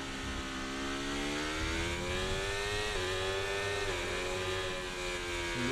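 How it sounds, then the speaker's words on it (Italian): Racing video game car with a steady, loud engine drone, its pitch climbing through gear changes with brief dips near the third and fourth seconds, continuous throughout without speech. "Che rumore che fa la macchina."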